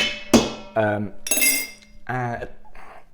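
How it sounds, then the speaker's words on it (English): A spoon stirs steeping tea with lemon for kombucha, clinking several times against the vessel in short bright knocks. Talk is heard between the clinks. "Let's give that a little stir."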